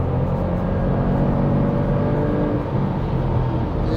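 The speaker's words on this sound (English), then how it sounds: "It sounds almost like a V6 engine coming from the car." A Ford Puma engine accelerates in sport mode, a loud, continuous low drone heard from inside the car, holding steady for several seconds with no voices over it.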